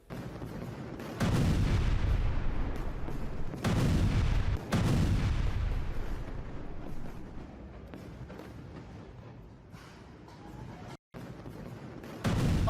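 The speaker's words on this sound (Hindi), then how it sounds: "माउंट सेफा के पास सैन्य डिपो में जबरदस्त धमाके हुए हैं।" Heavy booming blasts at a military depot roll out one after another, loud and rumbling, with sharp onsets and long decaying roars between them.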